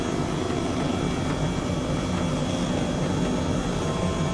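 An H135 helicopter in Microsoft Flight Simulator, flying over Tuscany, gives a steady, dense engine and rotor roar that stays constant and fills the whole stretch, with no talking.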